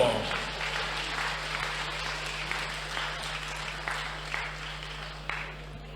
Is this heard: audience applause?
yes